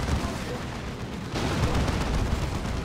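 A Baneblade super-heavy tank's side cannons fire during a Dawn of War 2 battle, making a dense, continuous roar of loud booming shots that thickens into a heavier barrage partway through.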